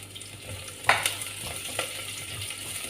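Three small onions sizzle in hot oil for a raw mango fish curry, a steady low crackle with a few sharper spatters and clinks close by, no voices.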